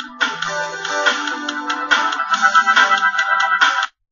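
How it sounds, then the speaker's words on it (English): Music fading in under an Audacity fade-in effect, a bright tonal piece with a steady pulsing rhythm that swells from quiet to full level within the first moments, then plays on alone before cutting off abruptly at the end. "Go up here at the effect, fade in, and you get this kind of look."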